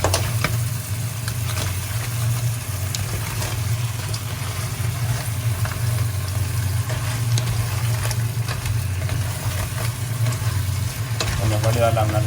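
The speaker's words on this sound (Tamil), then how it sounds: "நண்டை போட்டு அதையும் சும்மா லைட்டாக பொரிய விட்டால் நல்லது." Crab with onions frying and being stirred in a pan, a steady close sizzle with occasional scraping stirs over a low constant hum.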